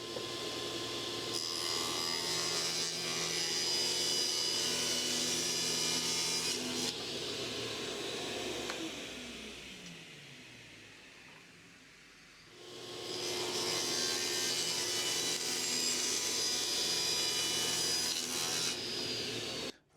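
Table saw cutting wood with a spinning blade, a loud continuous whine and rasp that runs for several seconds, dips and winds down briefly, then resumes at full loudness through the rest of the cut.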